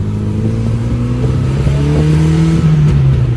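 A 1972 BMW 2002 four-cylinder engine revs loud and close, pitch rising and holding high before easing back slightly, with no talking over it.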